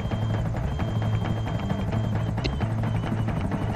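Helicopter in the video game GTA V, a steady rhythmic rotor thrum with a sustained engine whine, fairly loud and close, running continuously throughout with no talking.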